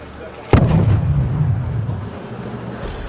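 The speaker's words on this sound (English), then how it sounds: "This guy's just getting mortared down pretty heavily." Mortar artillery fire in a military video game, one sharp blast at close range followed by a long rumbling boom that stays loud and steady to the end.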